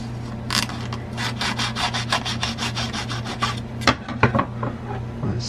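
Sandpaper or a nail file rubs against the edge of a plastic jazz guitar thumb pick in quick, rhythmic rasping strokes, close and steady, with a few sharper scrapes near the end over a low background hum.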